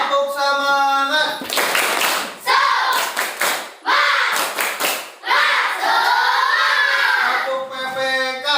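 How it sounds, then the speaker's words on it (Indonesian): A school class performs the 'tepuk semangat' clapping chant, with bursts of sharp group claps and thumps falling in rhythm and children's voices chanting between and over them. "Tepuk semangat."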